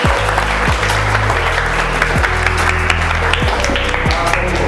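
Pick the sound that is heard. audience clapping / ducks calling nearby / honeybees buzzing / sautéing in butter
audience clapping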